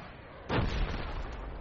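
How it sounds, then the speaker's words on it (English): Mortar explosion in a military shooter game, a single heavy boom landing in the middle and then settling into a low rumbling tail over steady background noise. "Jesus, these mortars."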